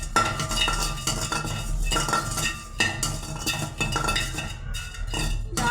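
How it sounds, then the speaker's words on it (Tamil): Mace dry-roasting in a pan, stirred steadily with a metal utensil that scrapes and clinks against the pan in a repeated rhythm, faint sizzle underneath, no talking. "ஜாதி பத்திரியை நம்ம நல்லா வறுத்து எடுத்துக்கலாம்."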